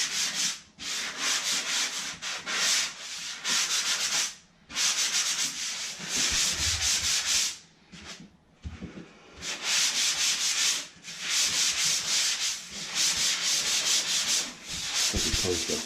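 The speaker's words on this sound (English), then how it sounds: "light sand, get rid of just the ridges." Light hand sanding of dried drywall joint compound in a flood-repaired basement, a close, loud scratchy rasp in repeated strokes with brief pauses between passes.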